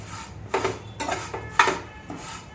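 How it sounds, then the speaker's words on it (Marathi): Dry poha flakes being roasted and stirred in a pan over medium heat, giving a run of close scraping and clinking bursts as a utensil works through the flakes, about five strokes with short pauses between them. "पोहे चांगले खरपूस भाजून घ्यायचे."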